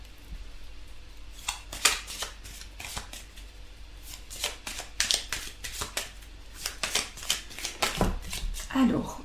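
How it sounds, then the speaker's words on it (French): Tarot cards are shuffled and drawn in quick bursts of crisp riffling and flicking, close and fairly soft, in irregular clusters with short pauses between. "on va tirer une petite carte pour voir au niveau sentimental encore"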